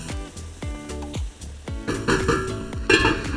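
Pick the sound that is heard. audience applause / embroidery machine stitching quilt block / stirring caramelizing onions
stirring caramelizing onions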